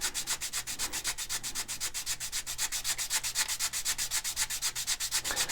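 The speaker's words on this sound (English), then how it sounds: "press it into the curvature in the sanding block, and then we just run it up and down the" Sandpaper on a curved sanding block rubs up and down a model rocket fin for an Estes K-1 Astron Scout build, making steady rapid rasping strokes, close and continuous with no talk.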